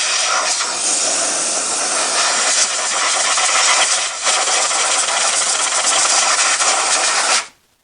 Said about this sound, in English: I need to use a bit of compressed air for starters. That's the starting point, just to blow off around where the glow plug is going.